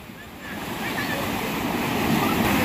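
Sea waves rolling in and breaking on the shore at Digha, a rising wash of surf growing louder with wind buffeting the microphone, close and continuous.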